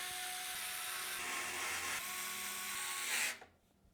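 Screws are driven to fasten a motherboard into an Antec NX416L PC case with a power driver, which gives a steady, close whirring buzz for about three seconds before it stops abruptly into near silence.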